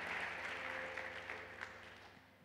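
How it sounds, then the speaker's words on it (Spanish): A church congregation claps for the Lord in steady, moderately distant applause, with a low hum running beneath and the clapping tapering slightly toward the end. "Puedes darle un fuerte aplauso al Señor"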